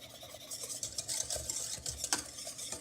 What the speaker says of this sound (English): Stir that up well because you don't want your egg to scramble